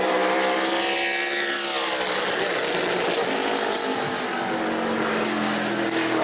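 Super late model race car roaring around a track on a qualifying lap at New Smyrna, a loud sustained engine howl that sweeps in pitch as it passes, with an announcer talking over it.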